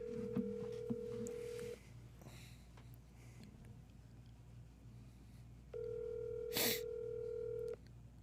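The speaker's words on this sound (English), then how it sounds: "I'm gonna call this agent." A telephone dials out to a real estate agent: a short burst of touch-tone beeps over a low line hum, a gap, then a steady ringback tone held for a couple of seconds, with a brief click in the middle.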